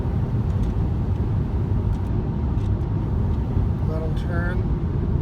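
A 2017 BMW 530i driving on a road makes a steady low road and engine rumble heard from inside the cabin, constant and moderately loud throughout, with a few faint chirps near the end.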